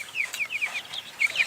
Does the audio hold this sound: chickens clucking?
yes